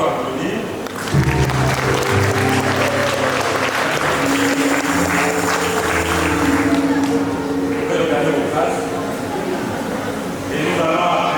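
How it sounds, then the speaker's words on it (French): Wedding guests applauding during a civil and religious ceremony, a sustained crowd clapping heard alongside voices and low tonal sounds, fairly close and continuous for the whole stretch. "on peut encore applaudir"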